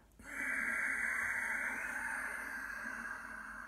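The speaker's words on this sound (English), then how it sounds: "as you do Ujjayi breath, it'll sound like this." A single long Ujjayi exhale through a narrowed throat, a close, steady, resonant hiss of ocean-like breath that starts abruptly and holds for about three seconds while slowly easing off.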